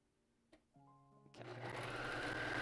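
A sewing machine starts up after a few faint clicks and tonal hums, then runs at a steady fast stitching pace, moderately close and alone.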